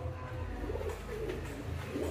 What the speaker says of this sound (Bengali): এই যে দেখেন বোম্বাই কবুতর ডিম নিয়ে বসে আছে